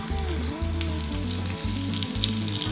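Spinach and potato pakoras sizzle in hot oil, a dense steady crackle with a low engine-like hum underneath, close and continuous throughout.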